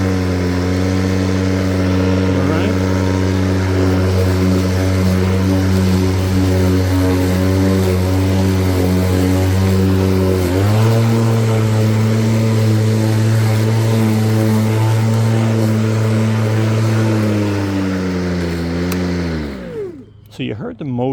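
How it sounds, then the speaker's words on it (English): Milwaukee or EGO electric lawn mower motor mulching, a loud steady whine that steps up in pitch as it revs under load, then winds down at the end. "So you heard the motor rev up when it needed to"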